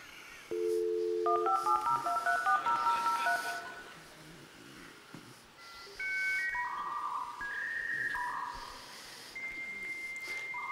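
A dial-up internet modem connecting, played back through a phone speaker: a run of DTMF dialing tones, then rising handshake whistles and tonal screeches at moderate loudness, with no voices.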